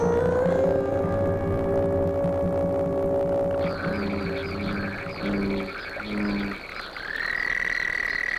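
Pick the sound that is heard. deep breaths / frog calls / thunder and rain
frog calls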